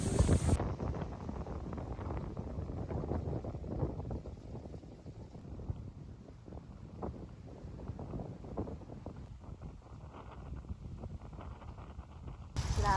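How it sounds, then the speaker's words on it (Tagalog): Strong wind buffets the microphone in rough, gusting bursts, rising and falling throughout with no other clear sounds. "Grabe, sobrang hangin dito as in."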